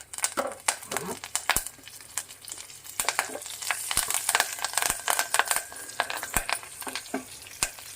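Dried red chillies and curry leaves fry in hot oil, giving a steady broadband sizzle and crackle broken by sharp clicks of a spoon stirring against the pan, close and continuous, with no one talking.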